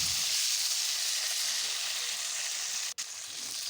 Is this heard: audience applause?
no